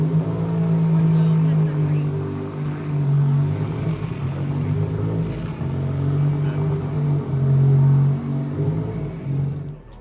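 A custom car at SEMA 2025 idles nearby with a loud, deep, lumpy engine rumble that swells slightly in places, over a busy show-floor background with people talking.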